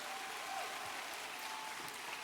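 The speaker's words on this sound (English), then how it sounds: "Let's give them another round of applause." Steady applause from a university commencement audience at the 125th anniversary December ceremony, dense and continuous across the whole stretch, fairly far off and even in level, with no talk over it.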